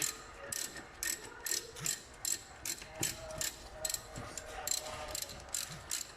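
A ratchet wrench tightening rear brake caliper bolts on a Nissan, giving a steady series of about a dozen evenly spaced clicking strokes, close and fairly quiet against a low background.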